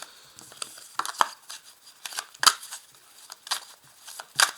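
Light cards are handled, shuffled and flipped over, giving a series of soft, scattered papery snaps and flicks at irregular intervals, close and fairly quiet.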